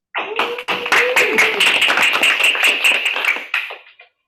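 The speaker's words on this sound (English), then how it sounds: "Please give them a round of applause." Toastmasters members receive a round of applause, a steady burst of many hands clapping close by for about four seconds, with a brief voice tone near the start before the clapping stops abruptly.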